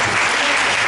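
A church congregation applauds and cheers in a short, dense burst of clapping, loud and close, with a few voices mixed in.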